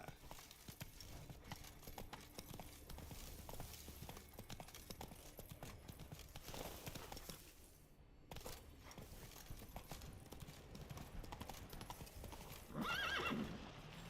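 Horse galloping in The Witcher 3 video game, with steady rhythmic hoofbeats running throughout, a brief whinny near the end, and faint game ambience underneath.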